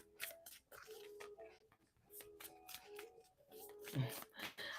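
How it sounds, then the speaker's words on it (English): A deck of cards being shuffled slowly by hand, tarot-style, in a quiet room, giving soft repeated riffling and sliding bursts with brief pauses between them, close and faint. "I can't shuffle the deck without shuffling them like tarot cards every time."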